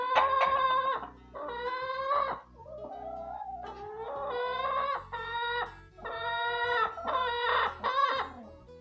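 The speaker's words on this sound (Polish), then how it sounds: "Mam taki piękny duet kurzy." Two hens cluck and squawk loudly and close by in an overlapping duet, bursts of repeated calls following one another almost without a break, alone with no talk.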